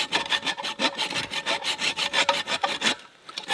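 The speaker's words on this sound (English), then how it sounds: "I'm just cutting through the old welds that have been here for over a decade" Hand saw cutting through old metal welds that have stood for over a decade, a steady rhythmic back-and-forth rasp of close, loud strokes that stops near the end.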